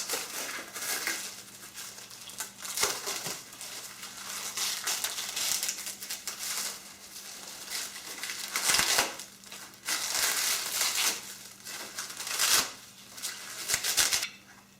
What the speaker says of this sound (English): I'm just opening those packages now.